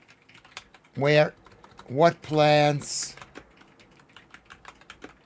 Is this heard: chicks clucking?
no